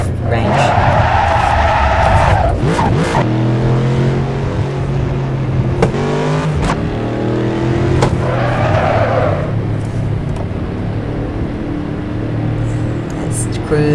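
A V8 racing car in Assetto Corsa revs hard through the gears, its loud engine climbing in pitch, dropping sharply at each shift and rising again, steady and close throughout.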